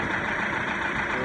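A Mercruiser inboard boat engine idling at close range, a dense steady rumble with an even low throb and no change in pitch.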